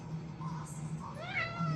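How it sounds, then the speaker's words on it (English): A house cat meows in a room, a short rising cry with a harmonic sweep near the end, heard over steady low background hum. "My cat's very interested in what's going on."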